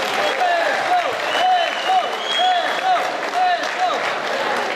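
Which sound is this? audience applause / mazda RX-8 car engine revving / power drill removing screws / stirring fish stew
audience applause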